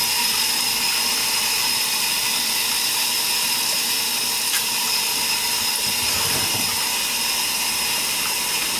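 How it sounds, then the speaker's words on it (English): Fruit is washed under a running tap, a loud, constant rush of water that continues steadily throughout with no speech. "We wash the fruit."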